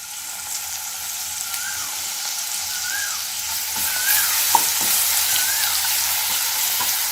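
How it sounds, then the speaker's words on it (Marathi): Ginger, garlic and green chili paste fries in hot oil for vada pav filling, giving a loud, close, bright sizzle throughout, with a few soft scrapes of a spoon partway through and no voices. "ही पेस्ट अर्धा ते 1 मिनिट परतून घेऊ"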